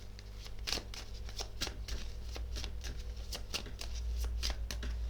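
Tarot cards are shuffled by hand in quick, repeated riffling bursts, close and fairly quiet, with no talk over them.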